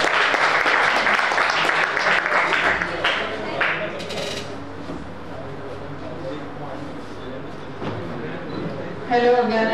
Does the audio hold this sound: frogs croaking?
no